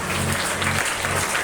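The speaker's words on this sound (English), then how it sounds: "A round of applause for Niranjana C for her brilliant A+ achievement." Applause from students at a school assembly, a dense burst of clapping hands filling the room, fairly loud and continuous, with a low hum running beneath.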